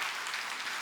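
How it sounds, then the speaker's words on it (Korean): Applause from a church congregation during a worship service, a steady wash of clapping filling the room for a brief moment with no voices over it. "예, 박수합시다."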